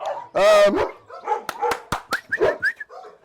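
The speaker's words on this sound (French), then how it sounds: "Alors là, nous avons un camarade berger allemand, il est là." A German Shepherd at a dog boarding kennel barks loudly and sharply a few times at close range, and people talk over and between the barks.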